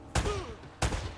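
Gunfire from the video game Uncharted: Drake's Fortune, three sharp broadband shots spaced apart over a dull background, loud and close with no talk.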